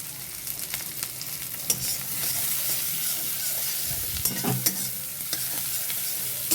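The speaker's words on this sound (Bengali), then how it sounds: "যতক্ষণ না লাল লাল করে ভাজা হচ্ছে ততক্ষণ আমি পেঁয়াজগুলো ভাজতে থাকবো" Onions frying in oil in a home kitchen, salted, give a steady close sizzle with scraping stir strokes and a few sharper crackles and clinks of the spatula against the pan.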